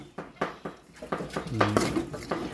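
Homemade larb chili powder being dry-roasted over low heat in a pan brings rhythmic metal scrapes and clinks of a spatula, close and brisk, while someone talks over the stirring.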